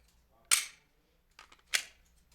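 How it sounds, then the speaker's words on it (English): Two sharp Glock 36 pistol shots during a test fire, the first at half a second and the second just over a second later, with a faint clack between them; loud and close with no talking. "First shot, malfunction."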